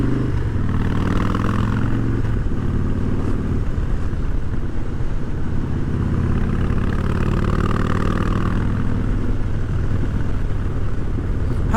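A Harley-Davidson Fat Boy motorcycle engine running continuously with a deep, loud, rumbling throb, heard close up throughout alongside wind noise.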